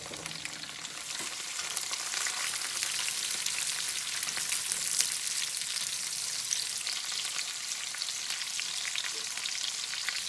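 Continuous loud sizzling of onions and garlic frying in hot bacon grease, a dense crackling hiss with occasional pops and faint stirring, no voices.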